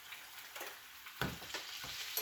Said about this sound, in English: gonna constantly baste these steaks